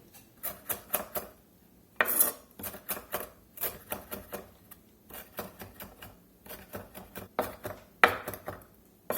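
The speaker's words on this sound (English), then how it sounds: "I got about half of that bunch of cilantro. We're just going to go in here and get this chopped up a little bit." A knife chopping a bunch of fresh cilantro on a cutting board, quick rhythmic bursts of close taps with short pauses between runs, no talking.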